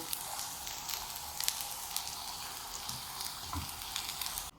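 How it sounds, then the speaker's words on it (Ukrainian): Potato pancakes with cabbage frying in a pan give off a steady, close crackling sizzle with scattered pops throughout, without any talking. "Жаряться, легенько переворачується"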